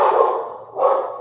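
Dogs barking indoors in a home office, two bursts of fairly loud, close barks separated by a short dip, with no talk over them.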